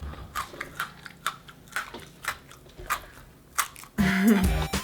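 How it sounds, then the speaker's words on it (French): Someone chews Japanese almond Pocky close up. Crisp crunchy bites repeat in an uneven rhythm, and a voice speaks briefly near the end. "Et on sent le croquant des amandes aussi"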